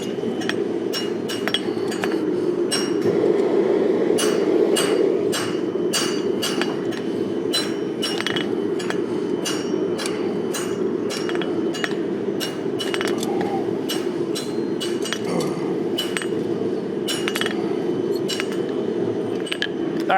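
Blacksmith hammering hot metal at a forge to upset it and tighten the corners of a decorative forged piece at a hammer-in event: dozens of sharp, ringing hammer blows in a steady, irregular rhythm over a constant background roar.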